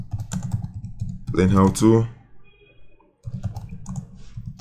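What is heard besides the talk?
computer keyboard typing a call to action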